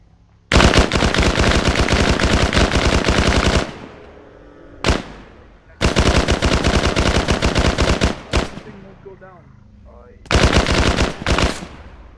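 Rapid automatic gunfire in the video game S.T.A.L.K.E.R., loud and close, coming in three long sustained bursts with short single shots and echoing gaps between them.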